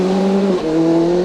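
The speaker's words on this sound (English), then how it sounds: "But Derek McGarrity, who's bought Morris Gass's WRC Subaru, is strangely off the pace and heading for a big scare." A Subaru WRC rally car at a 2001 stage rally drives hard, its loud engine holding a steady tone with a brief dip and shift in pitch midway, close and alone for just over a second.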